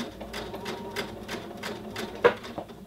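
A sewing machine stitching a curved princess seam in fabric, running in quick even pulses with a brief sharp click near the end.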